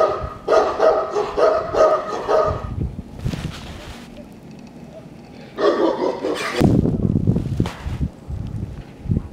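Several Alabai (Central Asian Shepherd) dogs bark outdoors, with bursts of loud barking in two clusters separated by quieter rustling and handling noise, fairly close to the listener.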